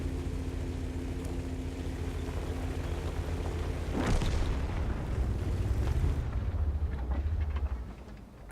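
Heavy artillery explosions in a video game play as a deep booming blast over constant rumbling battle noise, with one loud impact in the middle followed by a rolling low roar that fades near the end.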